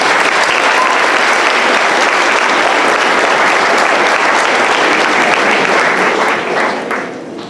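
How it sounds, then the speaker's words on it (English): Sustained, dense applause from an audience at an 8th grade academic awards ceremony for an award group, loud and steady throughout before tapering slightly at the end. "Let's give this group another round of applause."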